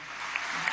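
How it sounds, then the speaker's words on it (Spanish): Dense applause at an indigenous movement gathering in Venezuela, a steady wash of clapping from a crowd with no voices over it, sustained and even throughout. "Muy bien, un aplauso indígena"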